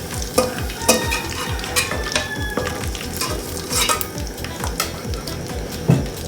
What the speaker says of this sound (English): we are taking the gizzard from the oil